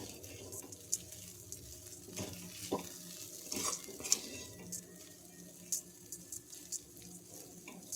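Maggi noodles with egg and masala from the packet are stirred and mixed in a pan, giving soft, irregular scraping and clinking taps of a utensil against the pan, fairly quiet and close.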